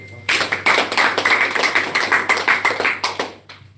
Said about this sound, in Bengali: ওনার জন্য আরেকটা করতালি হবে